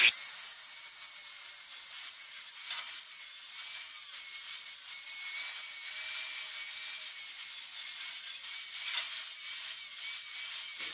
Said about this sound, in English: Now I'll just smooth it up a little with a 120 grit flap disc